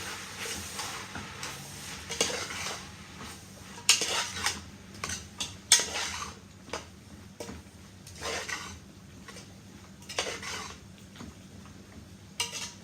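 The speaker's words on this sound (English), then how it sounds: "Then I'm going to add the thick leaf celery. And I'm going to stir that up." A utensil stirs thick leaf celery and chicken in a cooking pot, scraping and clinking against the metal in irregular strokes, close by and moderately quiet.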